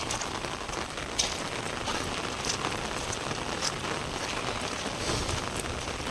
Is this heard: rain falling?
yes